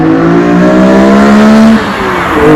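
A BMW E46 M3 fitted with a Haimus Racing CSL intake revs loudly and close by, holding a steady high engine note with a strong intake howl before easing off near the end. No voices are heard.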